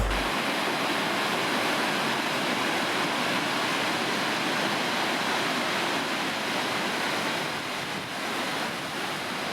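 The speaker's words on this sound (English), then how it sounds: "Cool canyon with this waterfall here that we came across" Waterfall in a burned-out canyon pours with a constant, dense broadband rush, loud and steady throughout with no voices.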